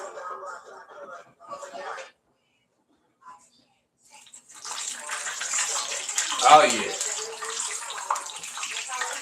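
Water is dropped into hot frying grease to test it before frying fish, a sudden loud crackling sizzle that starts midway and keeps hissing to the end, after brief speech and quiet.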